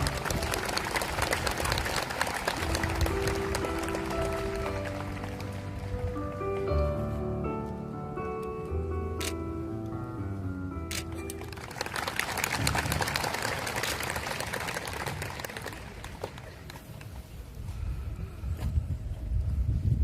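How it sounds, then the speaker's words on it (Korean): A crowd applauds at the 14th anniversary memorial ceremony for former President Roh Moo-hyun in Bongha Village. Broad, dense clapping fills the opening seconds, gives way to soft music, then swells again near the end. "여러분 큰 박수로 맞이해 주시기 바랍니다."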